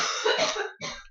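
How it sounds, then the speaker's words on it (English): Kaitlyn coughs nearby, two harsh bursts in quick succession, loud and close, with no talking over them. "Kaitlyn's still coughing."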